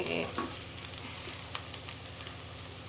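Sliced onion for chana dal fries in a pan with a steady soft sizzle and light stirring scrapes, close but fairly quiet, with small crackles scattered through.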